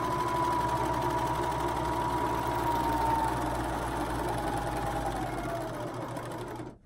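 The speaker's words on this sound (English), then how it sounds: "I'm going to use my serger because it's easier" A serger stitching a fabric seam for a bikini, running at a steady fast mechanical whir close up for several seconds before slowing and stopping at the end.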